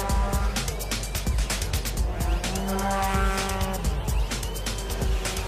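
A race car at the Race of Champions in Mexico drives a lap, its engine revving up and down through gear changes with tire squeal, close and steady amid a faint background of talk.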